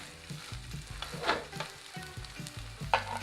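A kimchi pancake fries in a pan with a quiet, continuous sizzle, punctuated by a rhythmic series of soft taps and a couple of brighter scraping accents.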